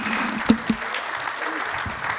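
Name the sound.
audience applause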